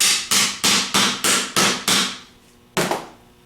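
A hammer taps down a part while rebuilding a 3G alternator: six quick, evenly spaced metallic strikes ring close and loud, then a pause and one final blow.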